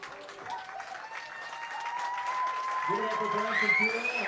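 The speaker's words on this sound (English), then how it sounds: "Branson Keel with a great round of applause as he heads into the dugout" A crowd at a baseball game applauds steadily as a pitcher heads into the dugout, the clapping sustained and mid-distance, with an announcer talking over it.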